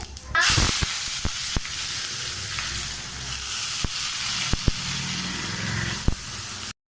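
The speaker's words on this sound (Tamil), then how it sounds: "இப்போ எண்ணெய் காஞ்சிச்சு, நம்ம பட்டை சோம்பு போட்டுக்கலாம்." Cinnamon and fennel seeds dropped into hot oil, a loud steady sizzle that bursts up at the start and holds, close by, with occasional light clicks of stirring and no speech.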